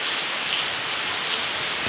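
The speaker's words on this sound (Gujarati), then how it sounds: "ફૂલ વરસાદ થયો છે એકદમથી" Heavy rain pours down continuously in a dense, even hiss of drops striking surfaces, loud and unbroken for the whole two seconds with no voices.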